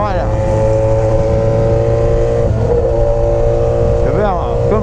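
Yamaha XJ6 motorcycle fitted with a FuelTech system, its engine revving loud and close with rising and falling pitch as it accelerates through short gears, continuous throughout with no talk.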